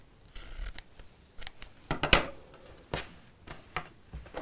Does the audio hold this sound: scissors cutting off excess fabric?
yes